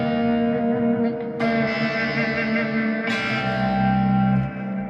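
A clean electric guitar soaked in heavy reverb and echo plays sustained, shimmering chords that swell and overlap, loud and alone, with a washed-out tail between strums.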